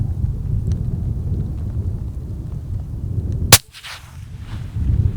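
A single sharp rifle shot fired at a coyote during a hunt cracks out loudly once over a steady low outdoor rumble, with the echo quickly fading away.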